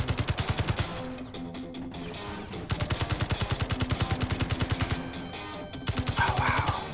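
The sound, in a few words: gunshots in Escape from Mars video game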